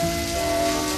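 Cartoon rain from a 1990s Madeline animation falls as a steady, even hiss, with sustained musical tones running beneath it throughout.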